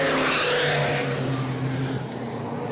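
Race cars roar past at New Smyrna in a loud, close engine drone, one car getting crossed up in the turn as the pack thunders by without any talking.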